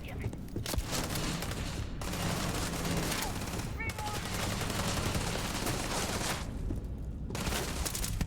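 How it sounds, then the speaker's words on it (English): Gunfire from a gun in the video game Starfield, a dense stretch of rapid shots and crackling blasts with brief pauses, loud and sustained over several seconds with a voice talking underneath. "Dude, this gun is nasty."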